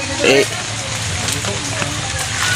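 Steady rain hisses loudly and continuously, with a brief voice near the start.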